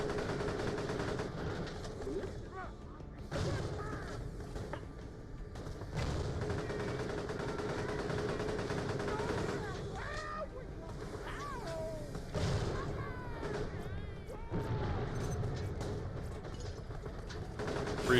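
Gunfire from the video game Fallout 4, played in survival mode, comes as repeated bursts and rapid volleys of shots mixed with game ambience, while a person talks intermittently over them.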